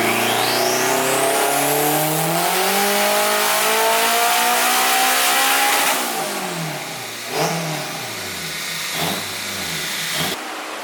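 A turbocharged, low-compression junkyard Honda K24 engine on a dyno pull climbs loudly and steadily through the revs for several seconds, then drops off, followed by a few short throttle blips as it settles.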